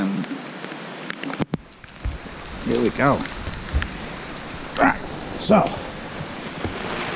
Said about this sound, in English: Heavy rain.